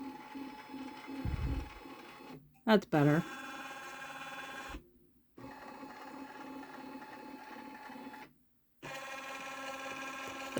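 A Janome Memory Craft 10001 embroidery machine whirs and clicks as it traces a design, with a rhythmic mechanical ratcheting broken by brief pauses and a short spoken remark in the middle.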